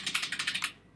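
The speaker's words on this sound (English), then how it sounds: "type over here with utilizing the keyboard" Rapid typing on a computer keyboard, a quick run of about nine crisp key clicks in steady rhythm, close and clear, then fading to quiet.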